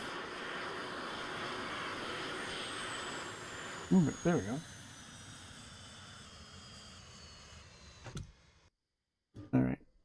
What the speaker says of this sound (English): I'm inadvertently hitting the throttle on the plane here. I almost drilled myself into the hangar, so I can't turn the engine off for some reason.